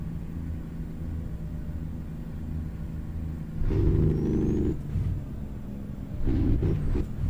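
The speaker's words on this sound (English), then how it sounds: "This engine does sound really cool under load, though." A deep truck engine in American Truck Simulator drones steadily, then roars louder under load in two heavier bursts, with no talking.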